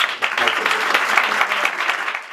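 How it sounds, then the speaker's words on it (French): Dense audience applause from a crowd at a Congolese youth ceremony honouring the Léopards football team. The clapping is sustained and fairly loud throughout. "Je vous demanderai donc d'applaudir très fort"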